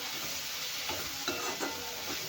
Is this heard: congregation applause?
no